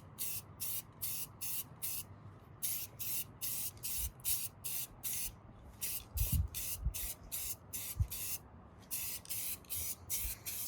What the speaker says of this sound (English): So I'm gonna shake the crap out of it and then spray her up.